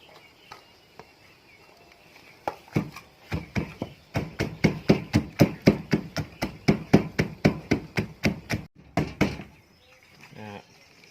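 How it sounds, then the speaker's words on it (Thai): Galangal, lemongrass and turmeric are pounded in a mortar that is not made of stone. Steady, rhythmic thuds come close and loud, speeding into a long run of strokes before stopping. "ข่าตะไคร้นะครับ แล้วก็ขมิ้นนะครับ โขลกไปครับ"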